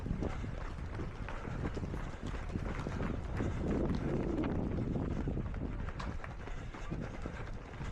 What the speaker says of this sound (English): You can already hear it is quite windy today